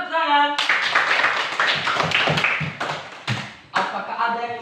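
Classroom applause from students, a burst of clapping following a short spoken intro, with a brief dip and a second surge near the end.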